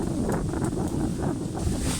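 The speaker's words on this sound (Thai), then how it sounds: "แล้วก็มาพร้อมกับลมอีกแล้ว" Strong wind gusting through a forest, a steady broadband roar with slight swells and buffeting, loud and continuous with no voices.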